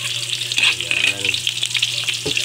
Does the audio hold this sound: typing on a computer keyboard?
no